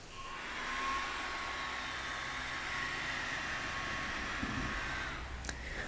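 A small blower drying freshly cleaned eyelashes gives a steady, soft airy whoosh close by, cutting off with a faint click just before the end.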